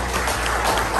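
Brief burst of steady crowd applause for a former president at a Christmas party, dense clapping filling the whole moment without voices.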